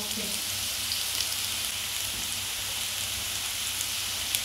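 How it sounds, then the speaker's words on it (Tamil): Plantain deep frying in a generous amount of oil gives a steady, dense sizzle and crackle that runs unbroken throughout, fairly close, with no talking. "இது டீப் ஃப்ரையே"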